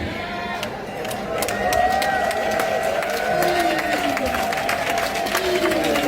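Wedding guests applauding at a ceremony, steady crowd clapping mixed with murmuring voices, moderately loud and sustained throughout.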